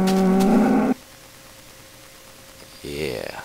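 A Minecraft cow gives a loud, harmonic moo that lasts under a second at the start, and a second moo rises near the end over a quiet hum.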